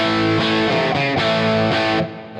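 Electric guitar with a Wizard Crunch compressor pedal switched off plays loud, slightly overdriven chords, struck several times in succession before the last one rings and fades.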